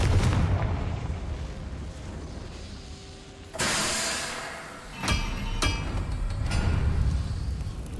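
A Confringo spell explosion goes off in Hogwarts Legacy: a sharp, loud blast kicks in mid-clip and is followed by a couple of quick bursts and a rumbling tail over steady game ambience.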